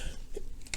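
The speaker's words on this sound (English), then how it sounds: "This persistent cough that just won't go away." A single sharp cough bursts out loudly at the end, following near-silence, during a sushi and spicy noodle eating session.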